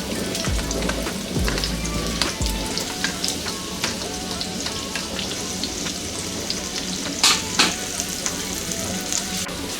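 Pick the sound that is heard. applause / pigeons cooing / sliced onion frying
sliced onion frying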